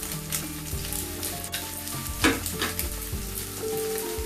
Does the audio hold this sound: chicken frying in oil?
yes